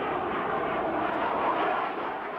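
A jet fighter in a Vietnam War dogfight with a MiG roars in a continuous, loud, broadband rush that holds steady throughout, with no voices over it.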